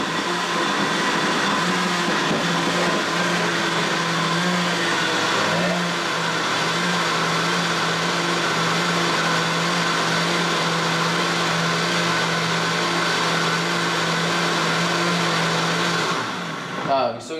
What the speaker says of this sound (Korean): 그 다음에 이거를 믹서기를 돌려요.